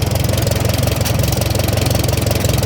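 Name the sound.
Farmall M tractor engine idling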